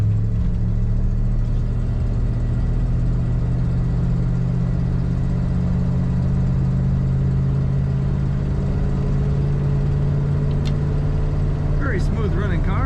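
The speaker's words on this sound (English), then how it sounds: "Very smooth running car." A 1962 Chevrolet Impala two-door hardtop with automatic column shift idles smoothly, a steady low engine hum close by with no change in pitch.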